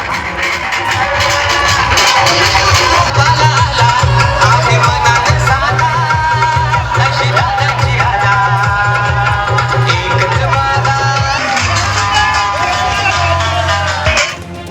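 A loud crowd of supporters celebrates a BJP win after the vote count in a Zilla Parishad and Panchayat Samiti election, with steady cheering and chanting under music-like tones, continuous throughout and dropping off at the very end.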